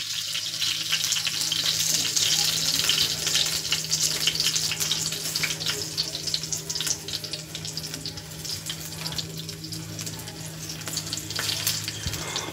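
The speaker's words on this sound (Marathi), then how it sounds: "आता कसं कसं तडका उडत बघा" Coated pomfret fish frying in hot oil, a loud continuous spluttering sizzle with dense crackles and pops, close and steady throughout.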